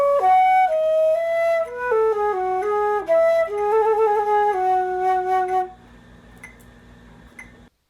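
Fast solo run from the first movement of Bach's Sonata No. 6, measures 3 to 5, played on a melodic wind-like instrument: quick clear notes stepping up and down for about six seconds, then silence.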